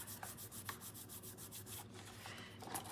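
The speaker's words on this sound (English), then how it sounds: "we're going to burnish it again because we want it to be nice and crisp there on the edge" A paper card's fold is burnished with repeated soft rubbing strokes, a faint rhythmic scraping that comes in quick, evenly spaced passes close to the listener.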